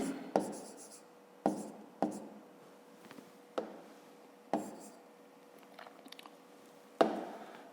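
Pen strokes scratch on paper in short bursts with pauses between, close and quiet, during a fifth-grade math exercise, with no talking.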